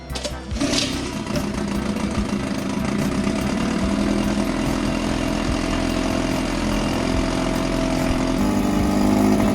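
A 1961 Mercury 6 HP outboard motor on a 12-foot boat runs steadily with a low, continuous droning hum after a brief sputtering start, holding an even level throughout.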